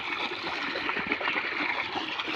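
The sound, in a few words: irrigation water flowing through field channel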